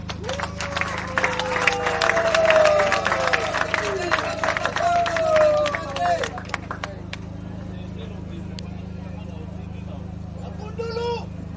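Party members applaud and cheer at a first-anniversary celebration of the Congolese political party NOGECO, a dense, loud crowd of clapping and shouts peaking early and thinning after about six seconds, over a steady low hum.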